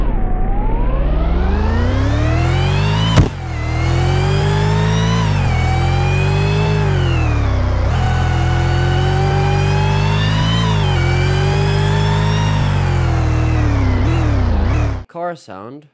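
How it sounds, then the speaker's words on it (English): Supercharged car engine in a Roblox Studio game, a loud synthetic engine note revving up and down in repeated sweeps with a constant supercharger whine, one abrupt glitch early on, cutting off near the end. "Now hear the dramatic increase in supercharger volume and sound."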